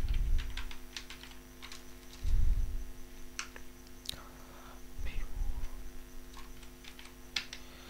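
A computer keyboard is typed on in quick, irregular bursts of light clicks close by, with soft low thumps and a faint steady electrical hum beneath.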